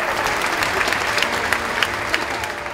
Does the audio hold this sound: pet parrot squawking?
no